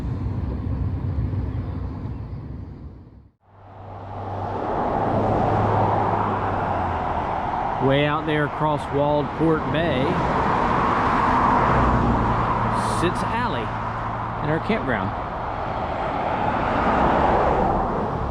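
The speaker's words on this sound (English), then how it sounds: "We've been seeing this road and cars go by across the bay here since we checked in." Cars travelling a road on the far side of Waldport Bay, Oregon: a faint, distant, steady traffic wash and rumble that swells and fades as vehicles pass, with a spoken voice over it.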